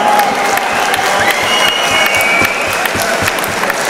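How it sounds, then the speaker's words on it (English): A crowd at a fighting event applauds and cheers loudly and continuously for two challengers in a title fight, a dense wash of clapping with scattered whoops. "a round of applause for these 2 challengers for a real title fight"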